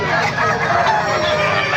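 Chickens clucking and a young rooster crowing close by at a market in Bocaue, loud and busy, with no talking.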